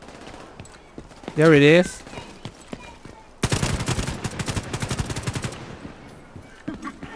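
Sustained automatic gunfire rattles for several seconds in The Division 2 video game, loud and close, after a brief electronic warble; someone speaks briefly over the action.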